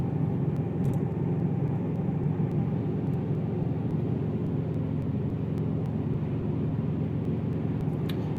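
A car fitted with an Invidia N1 race exhaust cruises at 65 mph in fifth gear on partial throttle. A constant low droning rumble is heard from inside the cabin, with no speech.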